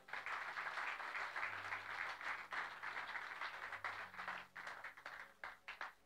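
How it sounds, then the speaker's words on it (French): An audience at an evening church conference applauds a man of God, with dense sustained clapping that fills the room and thins toward the end into scattered claps. "Est-ce qu'on peut acclamer pour l'homme de Dieu?"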